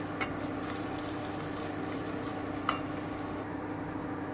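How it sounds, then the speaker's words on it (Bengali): Ginger paste being stirred into mutton frying in a pan for shahi mutton, giving a soft continuous sizzle with a few faint scraping clicks of the spoon, no voices. "এবারে আমি আদা বাটা দিয়ে দিচ্ছি 1 চামচ। এই যে 1 চামচ আদা বাটা দিয়ে দিলাম। আমি একটু নেড়ে নিচ্ছি।"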